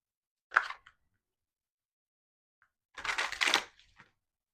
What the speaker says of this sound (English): This deck is like pretty big, so it's like one of those decks that's kind of awkward to shuffle.